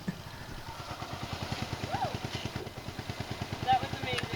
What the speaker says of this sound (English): I'm guessing that's your dad's motorcycle?